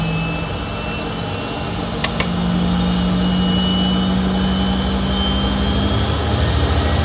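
A Cessna Citation 501SP jet engine starts and spins up, giving a loud, steady turbine roar with a rising whine. No one speaks over the sound.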